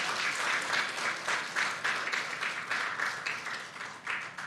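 A church congregation applauds during a Sunday morning worship service, a steady, moderately distant wash of many hands clapping for several seconds with slight swells and no talking.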